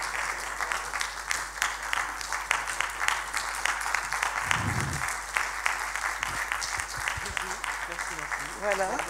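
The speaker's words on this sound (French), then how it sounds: "pour recevoir des applaudissements nourris de la salle" A hall audience applauds warmly at a conference, steady dense clapping that runs throughout at moderate loudness, with a voice speaking faintly over it partway through.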